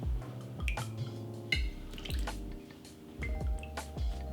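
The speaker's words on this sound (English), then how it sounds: "So right now we're gonna add our passionfruit syrup." Passionfruit syrup is poured for a pineapple margarita, a close, continuous liquid stream with glugging, dripping splashes and small clinks, rising and falling over a few seconds without talk.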